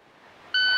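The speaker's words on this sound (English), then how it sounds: "when you hear the beep, you're going to move and grab to the gun" A shot timer's sharp electronic beep sounds once, loud and close, cutting in after a brief stretch of quiet ambience to signal the start of a drill at a shooting range during a red dot pistol class.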